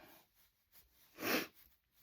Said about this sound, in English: excuse me for sniffling.